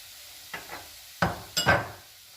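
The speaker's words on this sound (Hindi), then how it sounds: "इसको अब हम भूनेंगे 2 मिनट तक।" Fig halwa mixture being stirred and roasted in a pan, a few separate scraping strokes and soft sizzles, close and quiet with no talking.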